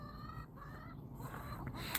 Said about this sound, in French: je vous remontre un peu les poules qui pondent super bien